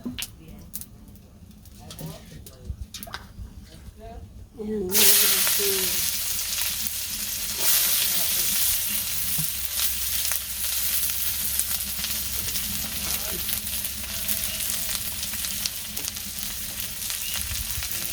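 Sliced bitter gourd and potato go into hot oil and fry with a sudden loud, steady sizzle that runs on continuously, after a few seconds of quieter kitchen sounds with a voice talking.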